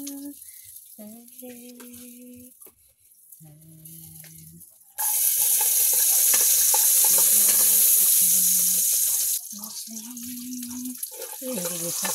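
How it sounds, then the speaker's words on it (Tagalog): Fish fries in hot oil, sizzling loudly in a pan for several seconds, with quieter kitchen clatter and talk before and after. "Piniprito ko muna bago isigang."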